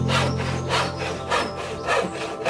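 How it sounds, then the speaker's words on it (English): A hand saw cuts through timber decking boards with steady back-and-forth strokes, about four rasping pulls, loud and close, with no talk. "So I'm going to saw these decking boards up into sections"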